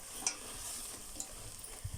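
Sorakaya sweet, a bottle gourd dessert, is stirred in a pan after cardamom powder goes in, faint scraping and soft sizzling with a few light clinks.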